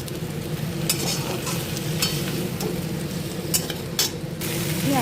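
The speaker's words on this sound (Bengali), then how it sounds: "পেঁয়াজটা হালকা ভাজা ভাজা হয়ে গেছে।" Onion frying in a pan while cooking muri ghonto, a Bengali fish-head and rice dish, with a continuous close sizzle and occasional scraping stirs and light utensil taps, no voices.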